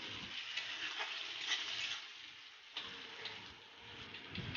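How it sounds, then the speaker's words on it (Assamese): Onions browned with green chillies frying in oil for an Assamese chicken and banana stem dish, a steady crackling sizzle with occasional sharper pops and stirring scrapes, close and continuous. "তাৰপিছত মই অকণমান সময় ভাজি থাকিম।"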